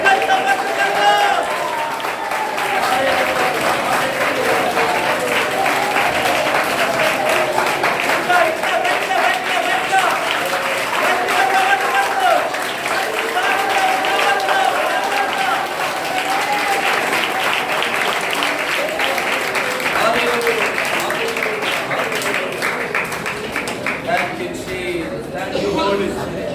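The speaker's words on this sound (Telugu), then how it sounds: "గట్టిగా చప్పట్లు కొడదాం" A church congregation at Sunday worship claps loudly in sustained, dense applause lasting the whole stretch, with a voice speaking over the clapping.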